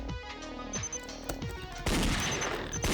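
Gunfire in the video game Danganronpa Another comes as rapid, sharp gunshot bursts with electronic game effects, loud and dense, turning into a heavier crashing volley near the end.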